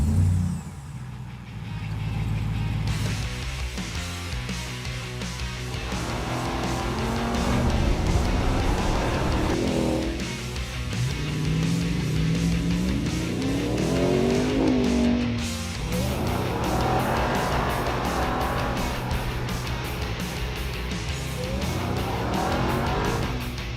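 A Ram 1500 TRX pickup truck engine roars and revs hard through repeated rising and falling surges, with tires squealing and skidding as it drives close by, loud throughout.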